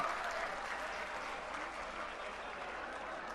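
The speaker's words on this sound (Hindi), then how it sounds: "जोरदार तालियों से स्वागत किया" A large crowd at a political rally in Delhi applauds continuously, dense clapping holding steady throughout before easing slightly.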